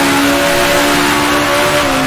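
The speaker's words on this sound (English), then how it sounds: "Rev it out in third." A 1966 Formula One car racing at Monaco in Grand Prix Legends revs hard in third gear, holding a loud, steady, high engine whine that shifts slightly in pitch near the end, with no talk.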